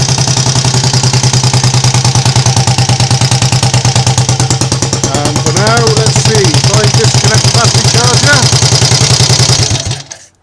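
A Triumph Tiger Cub motorcycle engine idles loudly and steadily with a rapid, even chugging throughout, then cuts off abruptly near the end.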